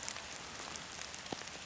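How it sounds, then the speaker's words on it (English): Heavy rain pours down outside near a castle ruin, making a dense, constant hiss with faint scattered drops and a soft thump. "It's raining like hell."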